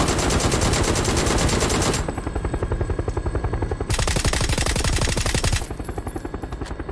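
Sustained automatic gunfire from a weapon in the video game PUBG on console, rapid loud bursts in two long strings with brief gaps, close and dominant with no talk.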